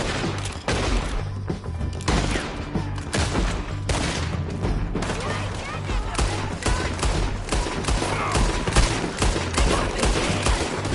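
Heavy gunfire during a town shootout in Red Dead Redemption 2, dense overlapping shots and crackling volleys that continue without a break, loud and close with voices shouting beneath.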